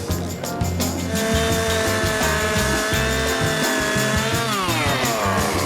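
A loud power tool makes a cut while shaping a replica Mark V supercar body, its motor whining steadily close by and then dropping in pitch as the blade bites near the end.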